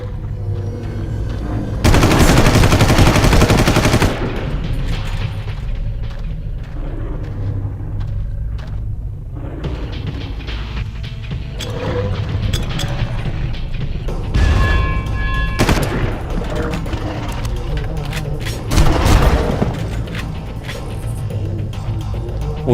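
Grenade blasts and gunfire in the Far Cry video game: bursts of rapid automatic fire and heavy booms come in several loud waves over a continuous low rumble, with quieter gaps between them.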